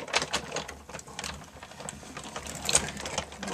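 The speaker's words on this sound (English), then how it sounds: "Run it through the Big Shot." A Big Shot die-cutting machine cranks a paper poinsettia inside an embossing folder and acrylic sandwich, giving a close, quiet, continuous grinding and ratcheting whir with small clicks, no talking.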